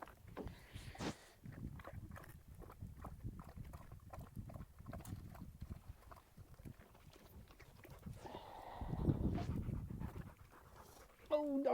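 A pet dog named Kira pants in rhythmic bursts at a spring campsite, with water splashing and shuffling around it and someone talking over much of it.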